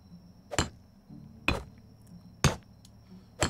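In the medieval video game Medieval Dynasty, a hammer strikes wood while building, giving four sharp, evenly spaced knocks about a second apart against a quiet background.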